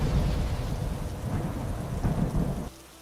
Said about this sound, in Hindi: चारों ओर अंधेरा और घनी बारिश थी